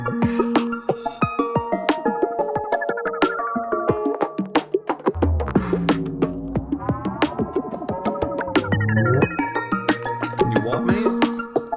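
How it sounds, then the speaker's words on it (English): A glitch hop track in 23-note-per-octave tuning plays throughout, with synthesizer notes in dense, pitch-bending melodic lines over punchy, rhythmic drum hits and a deep bass dropping in midway. "we're making Glitch Hop, and it's in 23 notes per octave"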